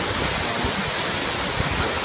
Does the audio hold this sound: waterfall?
yes